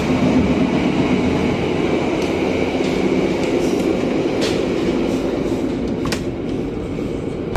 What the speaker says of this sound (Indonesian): Kereta api Logawa telah tiba di stasiun Pasuruan ini teman-teman